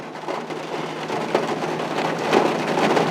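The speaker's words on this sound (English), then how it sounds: "I cannot believe it's raining as hard as it is." Heavy rain pours steadily onto a truck, heard from inside the cab as a dense, continuous hiss and patter with a few louder gusts of drumming toward the end.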